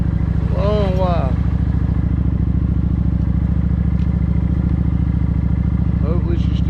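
A motorcycle idles with a steady, loud, close engine rumble that never lets up, while someone talks briefly over it.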